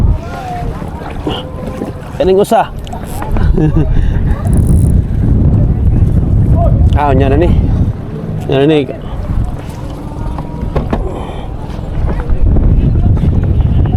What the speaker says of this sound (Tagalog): kusog ng hangin guys